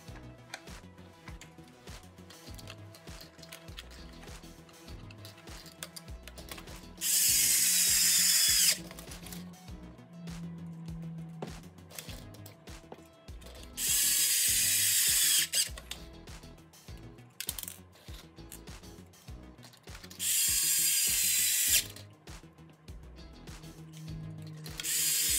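Power driver fastening the front bumper onto a Traxxas Slash 2WD RC car with an LCG chassis: three loud bursts of high whirring spaced a few seconds apart, with quieter handling clicks and rustles between.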